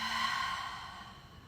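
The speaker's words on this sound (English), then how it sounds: "Take an inhale. And exhale to release." A single long, deep exhale during a guided yoga breathing exercise, a soft breathy rush close to the ear that fades gradually over its length, with no talking over it.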